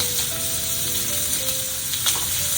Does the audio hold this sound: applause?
no